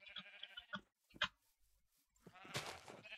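Sheep bleating in the Minecraft video game, a few short quavering bleats near and fairly faint, with quiet gaps and a denser burst of game noise near the end.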